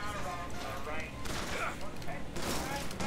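Sniper rifle fire in the video game Bioshock Infinite: a few sharp, heavy shots at spaced intervals, each followed by a burst of noise, over steady in-game ambience and scattered effects.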